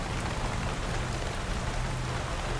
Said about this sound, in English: let the rain surround you